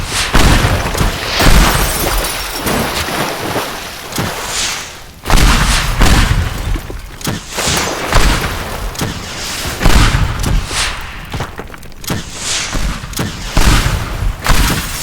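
A patio is destroyed in the physics video game Teardown with loud, relentless booms, blasts and crashing debris, bursts overlapping in rapid, chaotic succession with only brief dips in the din.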